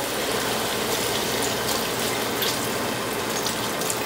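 Water is poured into a cooking pot over mixed diced vegetables for an African fish-ball rice dish, a steady continuous splashing and hissing pour that runs close and fairly loud throughout, with no talking.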